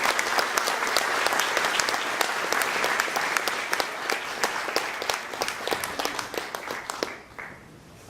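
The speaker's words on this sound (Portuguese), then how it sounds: "Uma salva de palmas para Jesus." Church congregation applauding during a service, a loud sustained wash of many clapping hands that drops off abruptly near the end.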